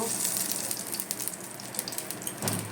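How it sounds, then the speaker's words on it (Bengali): Black cumin seeds crackling in hot oil in a pan used for frying fish, a soft sizzle peppered with small pops and light clicks, close and without talk. "তো এবার আমি একটু কালো জিরে ফোড়ন দেব"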